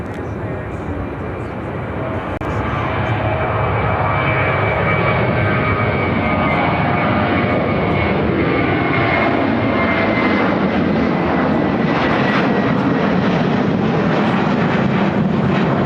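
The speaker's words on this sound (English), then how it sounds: "Airlines 1855 taking off to Las Vegas, Nevada on the 737-800" A Boeing 737-800 jet takes off from Chicago O'Hare, its engine roar building and then holding loud and continuous, with a sweeping pitch shift as it passes and some wind buffeting on the microphone.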